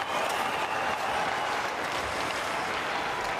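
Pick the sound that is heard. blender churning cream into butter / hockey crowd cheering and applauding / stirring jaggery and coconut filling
hockey crowd cheering and applauding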